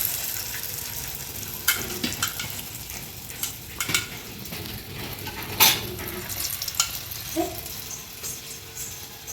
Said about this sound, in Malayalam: അവിടെ കിടന്ന് തിളക്കട്ടെ എണ്ണയിൽ